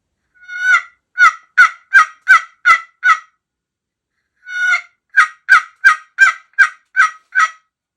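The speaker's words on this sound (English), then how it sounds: "here's a custom one, just beautiful call." A custom turkey call crafted from wormy chestnut and old barn boards yelps in two close, loud runs of sharp, evenly spaced notes, each opening with a longer stretched note, with a clear pause between runs.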